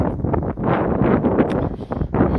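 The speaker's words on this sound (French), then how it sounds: "Car ça souffle, ça souffle, ça souffle." Wind blows hard across a beach, buffeting the microphone in a steady, close roar with gusty surges and no pauses.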